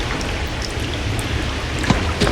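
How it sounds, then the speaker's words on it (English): Subtle water drops built from original recordings for an Unreal Engine game scene, heard as scattered light drips and patters over a soft continuous wash, with a couple of slightly louder drops near the end. "subtle water drops"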